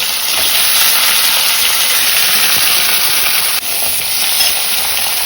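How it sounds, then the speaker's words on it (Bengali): Malabar spinach stalks frying in a pan, a loud, close, steady hiss of sizzling oil that runs unbroken throughout. "এই ডাটাগুলো আগে একটু ভেজে নিচ্ছি"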